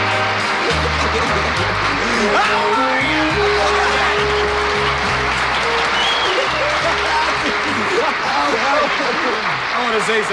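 A studio audience claps and cheers loudly and steadily for a comedian guest arriving on a talk show set, with a voice talking over the applause throughout.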